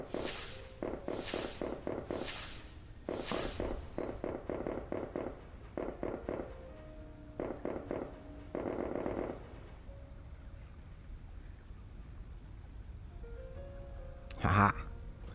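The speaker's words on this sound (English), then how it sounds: "Milestone achieved. Fireworks expected." Fireworks in the video game Satisfactory celebrate a completed milestone: a string of sharp popping bursts in quick clusters, then scattered crackles, and one louder bang near the end, heard alone.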